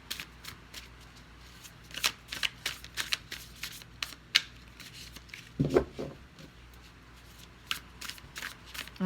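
Tarot cards being shuffled by hand in quick, repeated riffling bursts of crisp paper flicking, close and fairly soft, with no talking.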